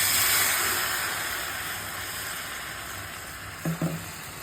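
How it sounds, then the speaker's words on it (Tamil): Cauliflower gobi frying in hot oil, a broad steady sizzle that fades slightly, with a couple of quick stirring knocks near the end. "நல்லா பொரிஞ்சு வரணும். கொஞ்சம் கிண்டிக்கணும், இல்லைன்னா அடி பிடிச்சிடும்"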